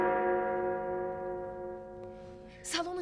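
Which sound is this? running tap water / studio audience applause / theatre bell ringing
theatre bell ringing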